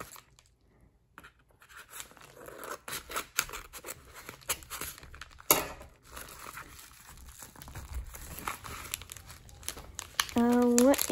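A package being cut open and torn apart up close, with crinkling plastic, rustling and a sharp rip, while a person talks throughout.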